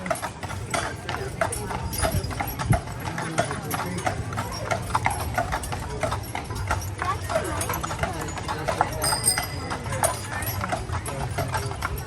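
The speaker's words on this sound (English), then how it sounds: "So Caesar and Whistler are both Belgian drag horses, and this is their 4th year working together here on the island" Hooves of a pair of Belgian draft horses at work on an island clip-clop steadily on pavement, close and fairly quiet, while a person talks over the rhythmic steps.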